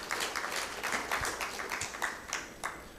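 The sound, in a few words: applause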